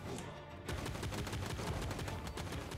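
Rapid volleys of gunfire from a boss in the pixelated rogue-like shooter Monsters & Monocles, a dense crackling burst that thickens after a brief lighter start and keeps going without pause.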